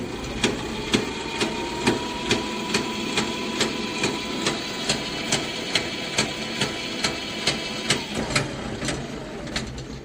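An electric tricycle with a rear wheel raised off the ground, run under throttle: a steady motor whir from the gearbox area carries a sharp, regular knocking click about twice a second, a repeated rattling fault.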